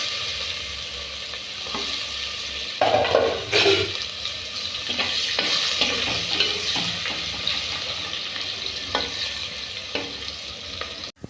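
Curry leaves and vertically sliced onions drop into hot oil for gongura dal, setting off a loud, steady sizzle with bursts of crackling and occasional stirring scrapes from the pan.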